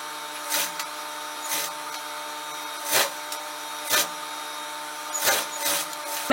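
A sewing machine runs with a steady motor hum while stitching the back side of a sleeve, with louder bursts recurring about once a second, heard close with no talking.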